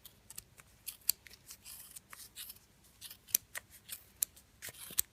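Scissors snip through pom pom yarn in quick, crisp, close-up cuts, several in a row with an irregular rhythm, faint and quiet overall.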